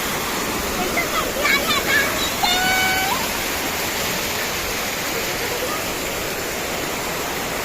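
Steady broadband roar of a waterfall, continuous and fairly loud throughout, with brief faint whistling tones partway through.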